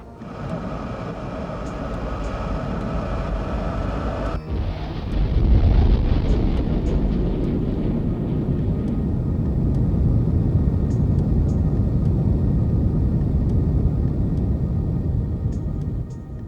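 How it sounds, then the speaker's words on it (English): SR-71 Blackbird afterburners ignite with a sudden deep roar that swells into a sustained, loud, broadband rumble, replacing a steadier whine heard at first. "Afterburners coming."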